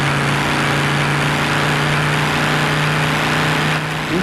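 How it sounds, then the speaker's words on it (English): A boosted car engine in the BeamNG driving game drones steadily at a constant pitch, a loud, unchanging hum that repeats as a loop with no variation. "I do wish they would fix the engine sound because you can hear it looping."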